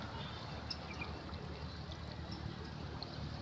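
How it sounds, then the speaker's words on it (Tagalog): A strong flow of water gushes from a water district pipe out in the fields, a steady, continuous rushing that stays even and fairly close throughout. "Lakas ng tubig."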